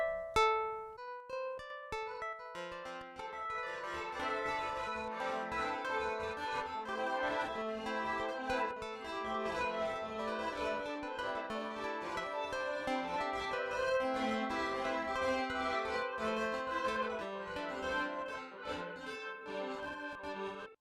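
Synth strings run through a Sonicware Texture Lab granular random sequencer, a dense shimmering stream of rapidly shifting chopped grains with constant stuttering pulses, steady and fairly quiet, no voices.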